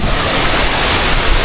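Steady wind blowing at Sevenwell Waterfall in Langkawi, Malaysia, a constant broadband rush mixed with roaring falling water, loud and close with no breaks.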